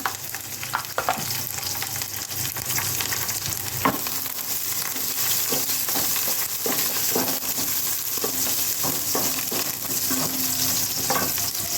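Cumin seeds, curry leaves and sliced green chillies fry in hot oil with a steady, loud sizzle, broken by a few sharp crackles and pops and some stirring throughout.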